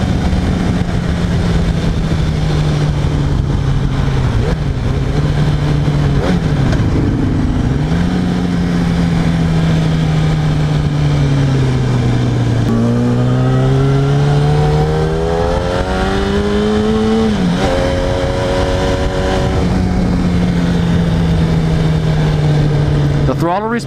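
A Yamaha R1 sport motorcycle's engine revs and accelerates loudly and continuously up close, pitch climbing and dipping through repeated throttle changes across a long stretch.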